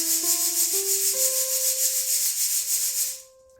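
Urad lentils shaken and sifted by hand give a rhythmic, rasping patter of dry grains that continues steadily, then stops abruptly near the end.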